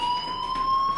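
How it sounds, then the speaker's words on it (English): A fire alarm in a video game sounds as a steady, loud electronic tone that holds unbroken for the whole second, with no voices. "do you hear that fire alarm? That means you should be outside."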